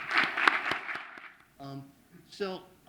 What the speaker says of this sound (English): would like to do so with a large round of applause